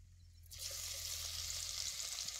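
Crushed garlic and cumin hit hot oil in a village kitchen, a sudden loud sizzle that erupts and then holds steady as a bright, continuous crackle.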